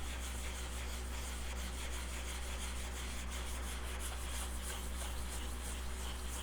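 Light prep sanding on motorcycle fairings gives a steady, soft, even rubbing hiss that carries on without pause at close range, with no talking.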